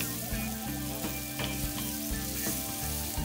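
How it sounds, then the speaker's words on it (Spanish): Onion cooking in a pan until it turns soft and translucent, a steady close sizzle with light clinks and stirring scrapes over a tonal background hum running throughout. "Vamos a poner la cebolla a que se acitrone, que cambie de color, se ponga transparente."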